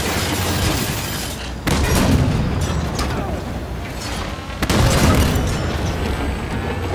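Heavy gunfire rakes tank treads in the Halo 5 game: dense, loud booming impacts and mechanical clatter run through the whole stretch, with two sharp surges of bursts partway through and voices underneath.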